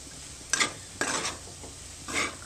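Moong dal halwa mixture being stirred and roasted in ghee in a pan, three soft scraping sizzles of the spoon at uneven intervals over a low background hiss, close and quiet, with no voices.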